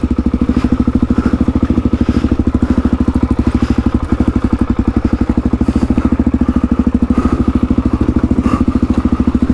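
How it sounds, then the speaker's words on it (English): A dirt motorcycle labours over a rocky, loose track in the Victorian High Country, its engine a steady close thumping pulse with clattering and knocks from the rough ground. "it's very rocky and loose, so I'm struggling to not let the bike get away from me"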